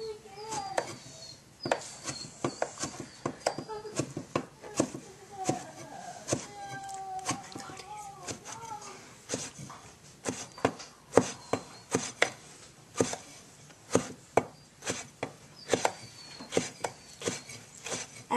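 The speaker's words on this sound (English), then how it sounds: "so now the 2 of us are chopping up roasted red peppers" A knife chops roasted red peppers into thin strips on a board, with steady rapid strokes, close and clear, and no talking.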